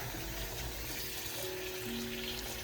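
Tap water runs into a sink as it fills for soaking laundry, a soft steady splashing hiss at low level with no talk.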